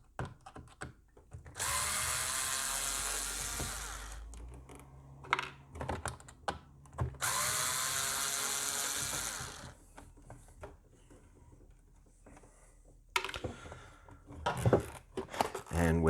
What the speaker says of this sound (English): the other thing to do is to remove this cover for the power cord. Just need a smaller Phillips head screwdriver for this.